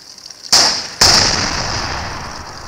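Two loud, close explosions from shot barrels in the video game Dead Lab, a sharp blast followed half a second later by a second, each decaying into a long hissing rumble.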